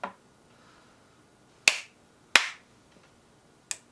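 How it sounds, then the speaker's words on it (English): Three sharp hand claps, then a fainter fourth, each followed by a short quiet gap. They set off an As Seen On TV light-up gadget, and the claps ring out alone in a quiet room. "So the lights light up with the claps."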